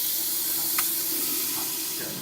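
Continuous hissing from a Quick Mill Silvano espresso machine steam wand, even and close, with a faint brief clink partway through and no speech.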